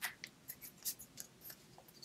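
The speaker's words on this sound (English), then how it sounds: "This is why I like the Copic scissors, because you can get in those little spaces that the larger scissors can't get into" Small Copic craft scissors snip paper for upcycled Christmas ornaments, giving a quick series of faint, crisp cuts roughly every quarter second, close and quiet.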